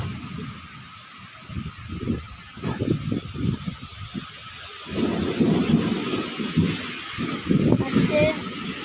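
Strong wind and heavy rain in a rainstorm roaring steadily, with gusts rising and people talking over it.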